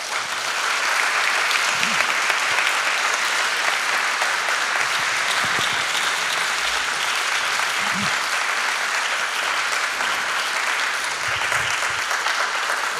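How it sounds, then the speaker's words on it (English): Audience applause for the panelists at the World Amateur Orchestra Forum in Shizuoka, a long, sustained wash of clapping from a large crowd that holds steady and full throughout, with no talking. "So let us give a big round of applause for Big Bosses."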